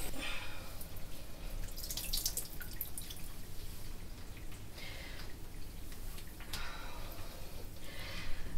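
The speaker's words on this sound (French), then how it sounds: "je vais venir les rincer." Running water rinses shampoo out of hair, a steady close splashing and dripping stream with brighter surges now and then, going on without a break and with no talking.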